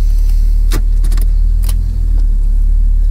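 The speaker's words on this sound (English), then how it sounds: "Just going to drive the car around, get it warm, and do some second gear pulls." A Ford XR6 converted from naturally aspirated to turbo, driving on back roads: a loud, steady low engine drone with a few brief clicks and rattles inside the cabin, no revving surge.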